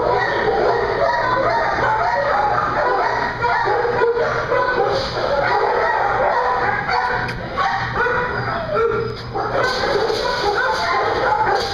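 Many dogs bark and yelp continuously in an echoing enclosed kennel holding about 300 dogs, a dense overlapping chorus with occasional whimpers and a rooster-like cry.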